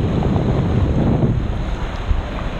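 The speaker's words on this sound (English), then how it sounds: "I managed to be here on the beach on a wonderful day." Wind and surf on a sunny Caribbean tropical island beach, a steady broadband rush of gusts buffeting the microphone over rolling waves, loud and continuous with no voices.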